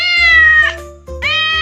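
A cat meows twice in close succession, the first call long and drawn out, the second starting after a brief pause; both are loud, clear and close, with no other sound.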